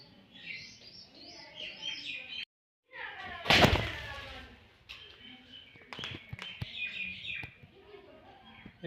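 Pigeon chicks in a garden give thin, high, repeated peeping chirps, with a sharp loud thump partway through and someone talking nearby.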